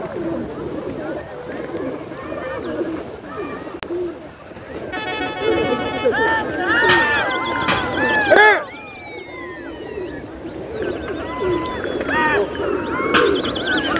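Pigeons at a rooftop pigeon-flying gathering, soft coos and scattered chirps and whistles rising and falling over a busy outdoor background, with people talking nearby.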